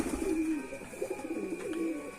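Adult pigeons cooing beside their squab, a close, repeated series of soft low coos in short rolling phrases, clear and alone with no talk.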